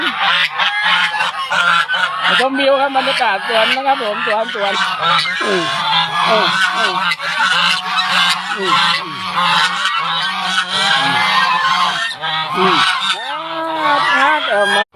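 A flock of geese honking loudly and continuously in a garden, many overlapping nasal calls close by, with someone speaking over them.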